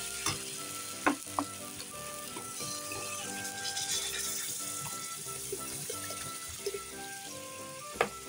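Chopped bottle gourd fries with papad in a pan over low gas heat and is stirred. A soft steady sizzle runs throughout, broken by occasional utensil scrapes and clacks against the pan, with faint music underneath.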